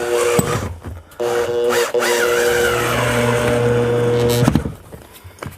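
A power screwdriver driving screws into a drywall ceiling, giving a loud sustained whir that stops and starts in a few runs and ends with a short rattle as the screw seats.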